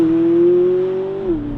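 A McLaren 570GT with a standard, non-sports exhaust holds a smooth, steady engine drone that rises slightly before dropping in pitch, loud and close.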